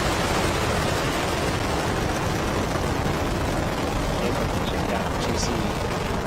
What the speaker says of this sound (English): Liftoff of the Falcon 9. Falcon 9 is over tower.